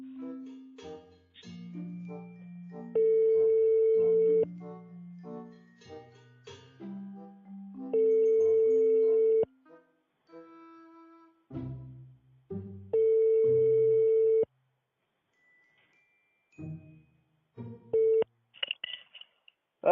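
A telephone call rings out on a French line with a steady ringback tone. Three long, loud tone bursts repeat at regular intervals, with people talking in the gaps between them.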